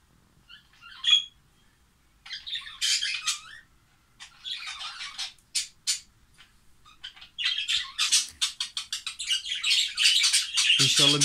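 Budgerigars chirping and squawking near a nest with eggs, scattered bright tweets early that grow into a dense, continuous chatter toward the end, close and fairly soft.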